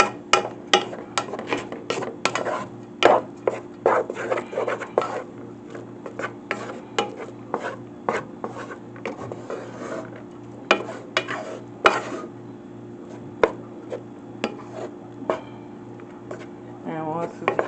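Salted rice stirred and fluffed in a pan, with a steady run of scraping and clinking utensil strokes against the metal, close and fairly loud, under a low continuous kitchen hum.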